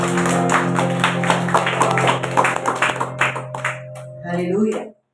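Church congregation clapping during an Indonesian service, sharp rhythmic claps over sustained organ or keyboard chords and singing voices, the claps thinning toward the end before the sound cuts off.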